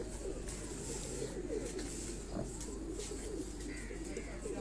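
Soft, low cooing of Heera Laal pigeons runs through the clip in a steady murmur, several birds close together, with faint chirps above.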